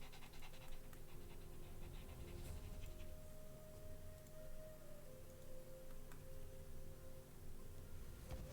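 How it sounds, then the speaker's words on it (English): A dog's quick, rhythmic panting continues throughout, quiet but steady, beneath low game background sounds. "I'm sorry about the dog breathing noises,"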